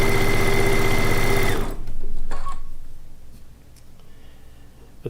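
A sewing machine chain pieces quilt blocks for a Lacey Log Cabin quilt top, a fast, loud mechanical stitching run that stops abruptly, followed by quieter handling clicks and rustles.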